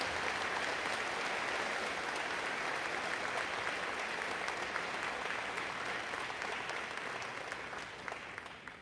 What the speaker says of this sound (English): we could have a moment of applause for this group of grade 11 prize winners